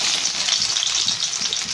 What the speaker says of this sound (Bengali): এবার এই তেলেতেই পেঁয়াজগুলো দিয়ে দেবো।